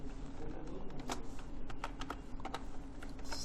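Computer keyboard typing in short irregular bursts of close, crisp key clicks, steady background hum, no voices.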